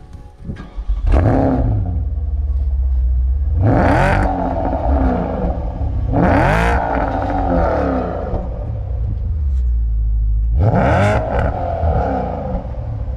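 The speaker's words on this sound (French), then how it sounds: "Quel bruit ça fait à l'échappement derrière?" Porsche Panamera GTS with a naturally aspirated 4.8 V8, its rear exhaust revved loudly and close in four sharp blips that rise and fall back to a deep burbling idle, with no talking.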